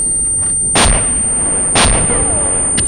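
Tank gun firing tandem rounds in a military video game, two heavy booming shots about a second apart, then a third fainter report at the very end, loud and close.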